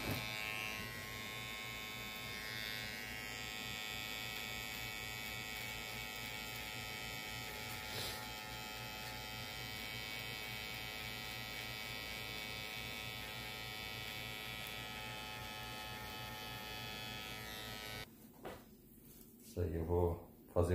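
An electric clipper or trimmer buzzes steadily and close for most of the haircut, a continuous hum that cuts out near the end with brief handling noise.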